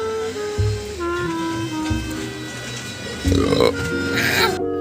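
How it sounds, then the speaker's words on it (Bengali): After a meal of fried rice and kadai chicken, a deep throaty burp rumbles out between people chatting close by. "ঢেকুরটা শুনে তো তোমরা বুঝতেই পারলে, দারুণভাবে খেয়েছি।"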